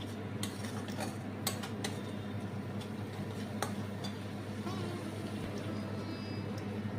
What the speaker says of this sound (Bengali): সর্ষের গুঁড়োটা ভালো করে কষিয়ে নিতে হবে তেলের মধ্যে।